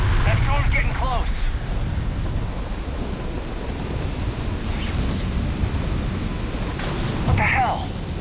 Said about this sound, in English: That storm's getting close.